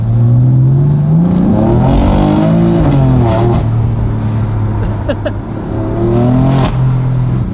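A car engine revs and accelerates up close, pitch climbing through gear changes, loud and continuous.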